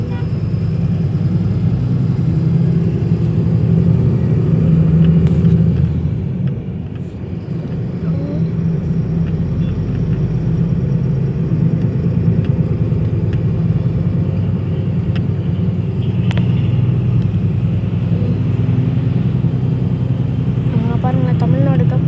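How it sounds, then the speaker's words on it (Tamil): Heavy midday traffic on Hosur road grinds past, a continuous low rumble of cars and motorbikes with engine drone throughout, while someone talks over it. "இன்றைக்கி மத்தியானம் பார்த்தா அவ்வளோ டிராஃபிக்காக இருக்குது கைஸ்"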